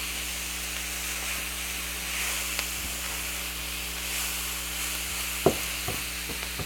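Fajita beef sizzles in a skillet for an Acapulco fajita beef dish as it is stirred. A steady, fairly quiet hiss runs throughout, with a few sharp utensil clicks and scrapes near the end.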